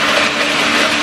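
A blender advertised as an ice killer runs with a little ice inside, giving a loud, dense, whirring motor roar that holds steady before cutting off abruptly.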